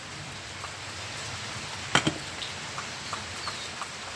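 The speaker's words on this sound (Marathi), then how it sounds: "चला आत्ता पावसाला सुरुवात झाली." Light rain begins to fall in a village yard beside an outdoor cooking fire. A soft, steady patter runs throughout, with scattered faint ticks of drops and one brief clatter in the middle.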